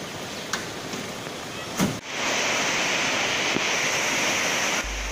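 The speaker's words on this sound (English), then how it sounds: "Isn't that waterfall just beautiful?" A continuous broad rush of falling water from the Lata Berembun waterfall in Pahang, steady and fairly loud, after a couple of brief knocks at the start.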